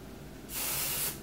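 A single burst of Nick Chavez Velvet Hairspray, a hydrating thickening spray, hisses into hair up close, starting sharply after a quiet moment and lasting about half a second before tapering off.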